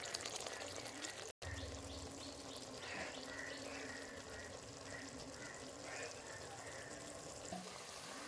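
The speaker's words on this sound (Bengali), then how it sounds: "মশলা থেকে যতক্ষণ না তেলটা ছাড়বে ততক্ষণ ফোটাতে হবে" Masala for a bagda prawn curry fries in oil with a soft, continuous sizzle and bubbling, broken by a brief dropout, while a voice speaks quietly over the cooking.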